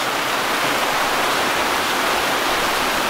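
A small river crossed on a hike in the Mafate cirque on Réunion, its water rushing in a steady, dense broadband wash that fills the whole clip close by with no other sounds.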